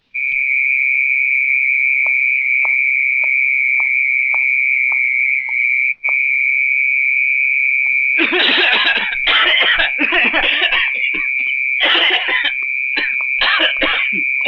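Several harsh coughs from a man in a Tamil thriller film scene, used as a signal, arrive in irregular bursts over a steady high-pitched whine. The bursts come loud and close in the second half.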